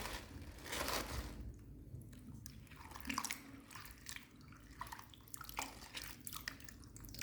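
Fresh raw organic spinach leaves are rubbed gently together in a basin of water, giving soft wet squishes, splashes and drips at close range in an irregular rhythm.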